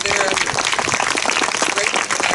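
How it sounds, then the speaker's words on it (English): Crowd applause at an outdoor playground dedication ceremony in a park, steady dense clapping filling the whole moment with voices mixed in. "Let's applaud there."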